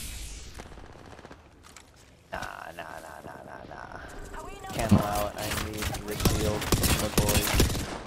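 Gunfire from the Apex Legends video game starts as faint distant shots, then grows into dense, loud bursts of rapid fire in the second half, mixed with game sounds and voice chatter.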